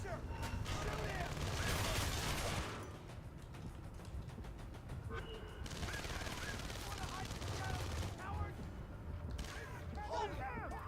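Bursts of video game gunfire crackle in volleys and rapid fire, mixed with game voices and other battle noise, moderately loud throughout.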